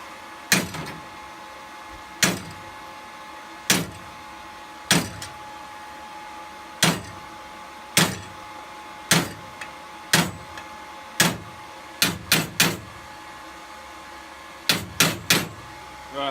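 Hammering heated metal: single loud, ringing blows spaced a second or two apart, closer together in a quick cluster near the end, with a faint hum between strikes and no speech.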